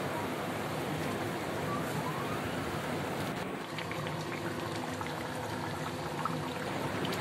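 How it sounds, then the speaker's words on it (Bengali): Water pours from a mixer jar into a cooking pan of fried spices, a steady splashing gush that turns to a hissing sizzle partway through, close by with no talk. "জল দিয়ে দেবো মিক্সিং জারটা দিয়ে"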